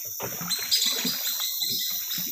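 A bird chirps in a forest, clear high repeated calls over faint background rustle and low murmuring.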